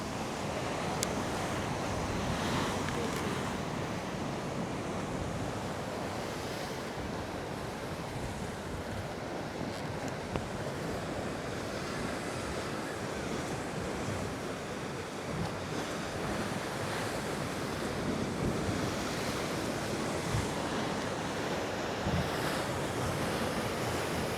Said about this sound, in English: they are really looking good, those waves